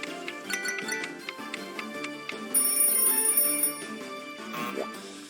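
Video game ringing effect, a bright repeated bell-like tone over busy game music and chimes, with a sustained high ringing burst near the middle.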